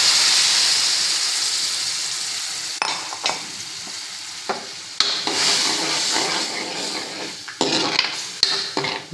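Toor dal with asafoetida is stirred in a hot pan for mango dal, with a soft sizzle underneath and repeated spoon scrapes and clinks against the metal, close and fairly quiet.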